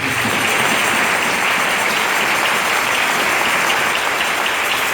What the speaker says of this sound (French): Acclamons la haut pour le Seigneur Jésus.